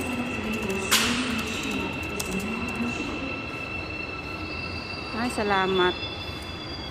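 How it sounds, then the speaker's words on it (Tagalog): A subway train rumbles steadily into a station on the line from Incheon airport toward Seoul, with a sustained high squeal of wheels and brakes, while a voice speaks briefly over it. "Ayan na ang aming train."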